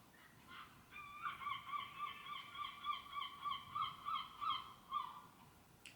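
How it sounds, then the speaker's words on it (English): Gulls call in a rapid run of about ten repeated honking cries, clear and moderately near, over a faint low background rumble, with no voices. "the old seagulls"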